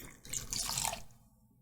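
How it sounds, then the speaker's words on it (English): Half a cup of water poured into a bowl with whisked eggs for batter, giving a short, close, bright splash that fades over about a second. "And then we're gonna add our 1/2 cup of water"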